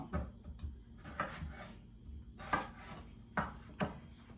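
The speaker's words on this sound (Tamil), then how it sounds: "அதை நல்லா ஸ்மாலாக கட் பண்ணிக்கலாம்" Skin-on potatoes are cut into small pieces with a knife on a board, giving soft, irregular chopping thuds and scraping rubs at close range, fairly quiet.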